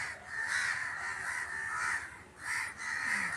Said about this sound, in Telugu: ఇవి చూడండి ఈ కాకులన్నీ ఎలా అరుస్తున్నాయో